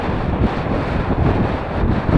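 Strong wind on a hill slope buffets the microphone in a loud, continuous low rumble with gusty swells and no voices.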